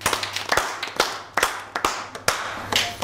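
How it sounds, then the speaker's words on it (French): A class at a private boarding school applauds a top-scoring student with a run of rhythmic, fairly loud claps at a steady pace, roughly two per second, close by. "on l'applaudit."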